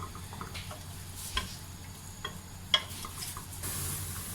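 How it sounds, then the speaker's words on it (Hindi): Onions sizzle gently in hot oil for a black chickpea curry, a soft, steady frying hiss with a few light clinks and taps of a spoon, quiet and close. "ऑयल गरम हो जाए तो उसमें प्याज डाल दें।"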